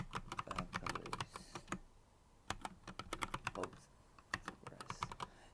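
Rapid typing on a computer keyboard while editing a config file, dense clusters of crisp close keystrokes in two bursts separated by a short pause, with no talk.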